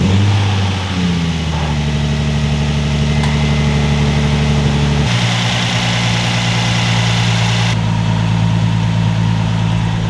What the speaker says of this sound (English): so we started up the car